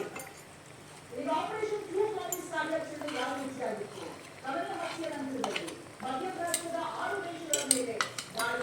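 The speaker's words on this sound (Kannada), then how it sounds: "ನಾವು ಮಾಡಿಟ್ಕೊಂಡಿರುವಂಥ ಪೌಡ್ರನ್ನು ಇದಕ್ಕೆ ಹಾಕ್ಕೊಳ್ಳೋಣ, ಮಿಕ್ಸ್ ಮಾಡ್ಕೊಳ್ಳೋಣ" Homemade spice powder is stirred into mutton sukka in a pan, with metal clinks and scraping under a person talking throughout, close by.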